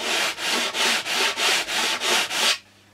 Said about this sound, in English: This balsa is soft enough that something like this, 80 grit, will eat at it very quickly